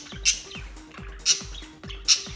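A pet budgie chatters close by, with three sharp squawks spaced evenly over soft rhythmic chirping and clicking.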